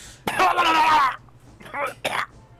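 During a tabletop fantasy role-playing session, a person vocally imitates someone coughing up a lot of water: a long, gurgling, throaty burst followed by two shorter sputtering coughs, loud and close.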